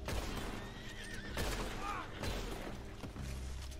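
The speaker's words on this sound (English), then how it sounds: "my horse panicking" A panicked horse whinnies loudly and repeatedly in Red Dead Redemption Online, with a tremulous neigh that rises over the game's ongoing rumbling background.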